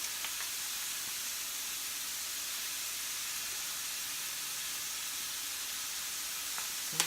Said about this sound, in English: as the meat browns, we'll let it do its thing on its own